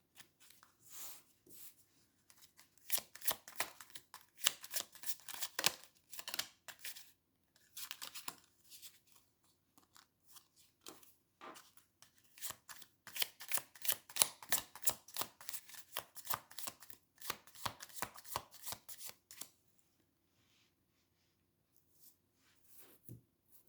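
Tarot cards being shuffled by hand, a close run of crisp riffling and snapping bursts that quicken and thicken in the middle, then thin out to scattered soft taps before falling silent near the end.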